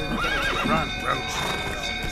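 A horse in The Witcher 3 whinnies loudly, a wavering, rising and falling neigh close by, over the faint thud of hooves, all within about two seconds.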